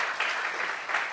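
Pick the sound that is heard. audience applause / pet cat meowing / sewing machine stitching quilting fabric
audience applause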